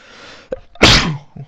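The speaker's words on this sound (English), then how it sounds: "That was a nasty sneeze." A single loud, close sneeze with a short intake of breath before the explosive burst, followed by a brief quiet sound.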